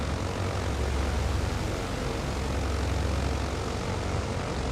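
Propeller airplane engine in a flight simulator game set around Anguilla, St. Martin and St. Barts, a steady loud drone with a deep low rumble holding evenly throughout, no voices.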